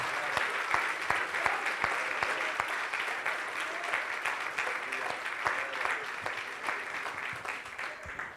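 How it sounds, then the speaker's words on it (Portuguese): A church congregation claps together during a missions service, a close, continuous patter of many hands lasting the whole stretch with no talking over it. "Você pode aplaudir a Jesus?"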